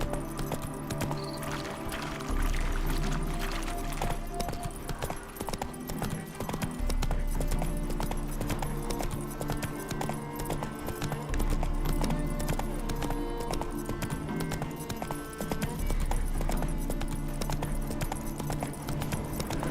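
Horse hooves clip-clop at a steady trot beneath continuous background music in The Witcher 3: Hearts of Stone, with the hoofbeats clear and close throughout.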